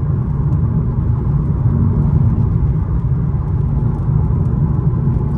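BMW M2 Competition 2019 with 411 hp accelerating, heard from inside as a steady, dense low engine rumble and road drone throughout, no voices.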